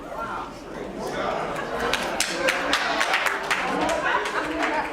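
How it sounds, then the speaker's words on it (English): Audience applause from a church congregation, a steady wash of many hands clapping with scattered louder claps, under a murmur of crowd chatter. "You guys are clapping"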